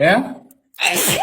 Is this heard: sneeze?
yes